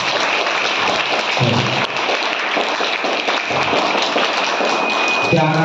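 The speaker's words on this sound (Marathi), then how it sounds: "शाबास, टाळ्या वाजवा." Schoolchildren at a quiz in Rajaram Sheth Vidyalaya, Bhandup West, break into loud, sustained applause. A dense wash of clapping runs steadily throughout, with a few brief thumps.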